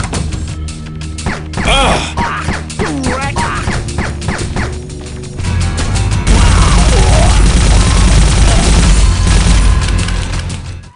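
A frantic SiN: Wages of Sin car chase weaves through Freeport traffic, with engine and traffic noise building into loud smashing crashes that grow heavier and denser toward the end, close and loud with no talk.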